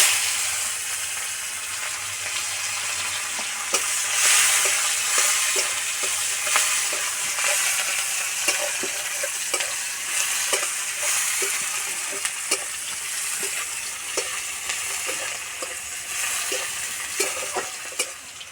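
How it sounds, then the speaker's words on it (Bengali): Chopped onions frying in oil with panch phoron and a bay leaf, a steady close sizzle with light stirring scrapes running throughout, no voices. "পেঁয়াজ ভাজা হয়ে গেছে"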